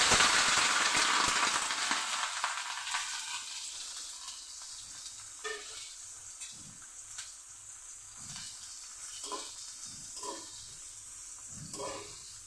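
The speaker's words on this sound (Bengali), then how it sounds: "কড়াতে তেল দিয়ে দিয়েছি, এখন পেঁয়াজগুলি দিয়ে দিচ্ছি।" Onions dropped into hot oil in a wok, starting with a loud burst of hissing sizzle that settles into a softer fry, broken by occasional stirring knocks, with no one speaking.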